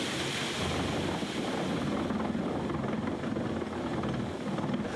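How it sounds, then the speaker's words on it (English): Water pours from an opened flume gate onto the top of a wooden overshot water wheel at Yates Mill, a steady, loud rushing wash with no pauses, close by and with no voices. "the miller opens the control gate of the flume and allows water to flow into the top of the water wheel"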